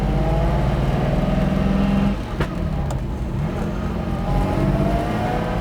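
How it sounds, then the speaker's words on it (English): A Lamborghini Miura S engine pulls cleanly from low revs, a loud, close, steady drone whose pitch shifts after a brief gear-change dip, with a couple of sharp clicks, and no one speaking. "the engine is pulling cleanly from no revs to speak of"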